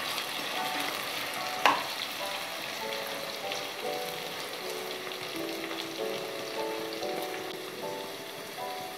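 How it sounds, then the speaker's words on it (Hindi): Potatoes frying in a pan: a constant, dense sizzle like fine rain, close and even throughout, broken once by a sharp knock of a utensil, with no voices. "अच्छी तरह से पहले आलूओं को हम फ्राई कर लेते हैं।"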